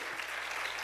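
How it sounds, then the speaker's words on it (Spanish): A church congregation claps together in a dense, continuous wash of applause, brief and fairly soft, with no voices standing out. "Démosle ese aplauso al Señor"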